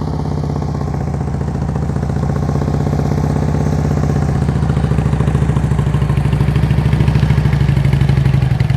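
A motorcycle engine pulses at low speed during slow-speed riding practice, a close, loud chugging throb that gradually quickens and grows louder as the throttle rises.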